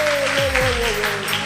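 A church congregation claps and cheers through a worship service, with steady dense applause filling the space over a sustained background tone and faint voices.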